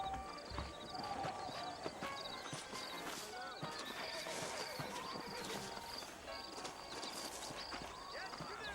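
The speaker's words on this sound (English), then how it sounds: "I got the horses saddled up and ready out front." Horses whinny and hooves clip-clop steadily in the video game Red Dead Redemption, over a busy background, with a voice speaking now and then.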